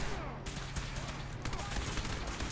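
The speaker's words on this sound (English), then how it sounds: "Everybody's shooting at somebody." Rapid bursts of gunfire in the modded video game Fallout 4, dense overlapping shots crackling close and loud over the whole short stretch.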